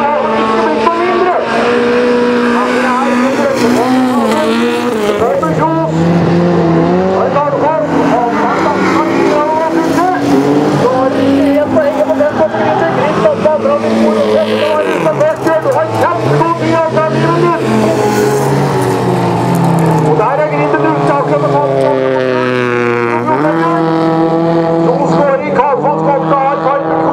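Senior bilcross (rallycross) cars racing a heat at Finnskogen, engines roaring loud and continuous with revving pitch sweeps as they accelerate and shift, under excited commentary.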